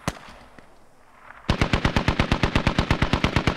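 Automatic rifle fire in the military shooter game Squad: one sharp shot, a lull of low ambience, then a loud, steady burst of about twenty rapid evenly spaced rounds, close and alone with no talk.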